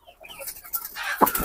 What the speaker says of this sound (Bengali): কবুতরের ডাক জানেন আপনারা?